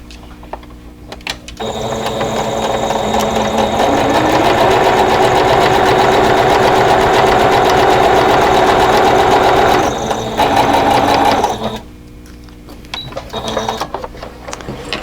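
Sewing machine stitching the border of a table runner in one long steady run, a loud close mechanical whirr with rattling gear noise, starting and stopping near the ends.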